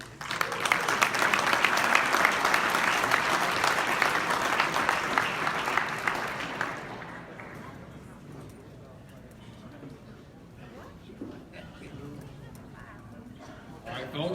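A banquet audience at a cattlemen's convention applauds after an auction, a dense close clapping that holds steady for several seconds and then fades into murmuring crowd room tone.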